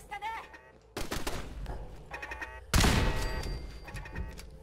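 Automated turrets firing in Fallout 4's Nuka-World, with bursts of rapid gunfire and heavy impacts in repeated waves under someone talking in Japanese.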